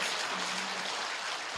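A lecture audience at a Buddhist broadcast program applauds as a dense, continuous wash of many hands clapping, steady and fairly soft throughout, with no voices.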